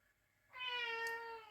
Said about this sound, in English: Sorry about my kitty cat.